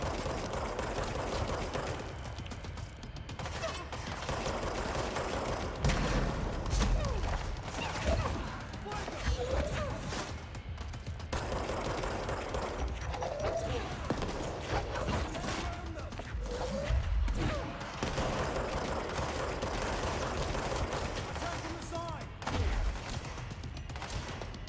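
A ranger fires a gun during combat in the Control game, with repeated bursts of gunfire and mechanical clatter over about twenty-five seconds, moderately loud, mixed with game ambience and occasional talk.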